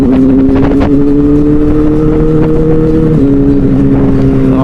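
A big motorcycle engine drones steadily and loudly while riding along a road, holding a constant low hum with slight shifts in pitch and no talk over it.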